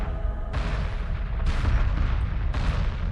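Ships firing on a frigate in Homeworld, three heavy cannon-like blasts at roughly one-second intervals, each a sharp crack over a continuous deep rumble.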